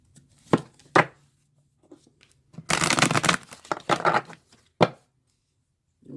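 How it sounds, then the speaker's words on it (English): Quick riffling bursts of cards being shuffled, a long dense flurry in the middle flanked by a few short snaps, close and fairly loud. "I'm going to shuffle these a little bit."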